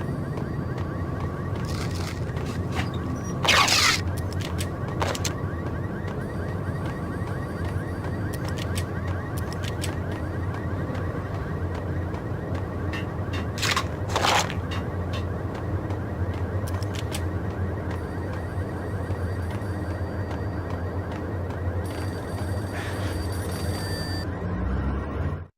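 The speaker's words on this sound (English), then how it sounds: "payphone started to ring" A payphone ringing in the video game Max Payne, a steady electronic ring repeating through a dense game soundscape with a low rumble and occasional sharp bright bursts.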